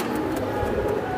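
Pigeons at a breeding farm give soft, low cooing calls, close by and brief, over a faint background murmur without speech.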